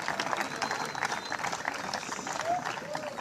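Applause from a crowd at the launch of national state examinations, honoring an education director: a moderately loud, continuous wash of many hands clapping, with a few faint chirps or whistles mixed in.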